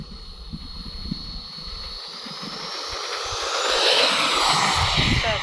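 An Arrows RC Marlin 64 EDF model jet flies past outdoors, its ducted-fan whine steady and fairly loud, rising and swelling toward the end as it draws nearer.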